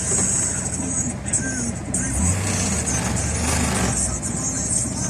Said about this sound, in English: Let me try and reverse the car.